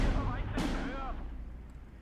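Enemy mortar rounds land in Steel Division 2 as a broadband burst around the half-second mark. The blast decays over roughly a second into a low rumble of ongoing battle, with no other sounds on top.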